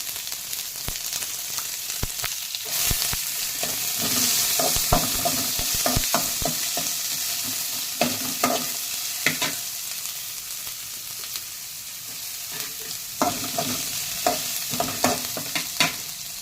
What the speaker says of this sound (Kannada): ಈಗ ಈರುಳ್ಳಿ ಹಾಕಿ ಫ್ರೈ ಮಾಡಿ